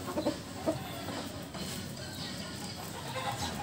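Chickens clucking at a backyard poultry pen in the morning, a steady low murmur of several fowl with a few sharper clucks near the start, fairly close, no talk.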